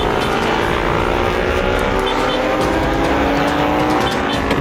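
In a cartoon story, a motorbike speeds away with a loud, continuous engine roar whose pitch slowly climbs as it accelerates, heard up close and alone.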